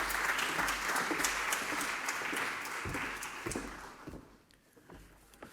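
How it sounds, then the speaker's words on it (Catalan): Dense applause from a conference audience at the institutional opening of a Mediterranean affairs event, steady and full before thinning out and fading near the end. "Un aplaudiment."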